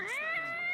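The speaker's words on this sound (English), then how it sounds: "Surrounded by cats." Cats meowing in a game setting: one sustained, rising then level meow with strong harmonics, loud and close, with no talk over it.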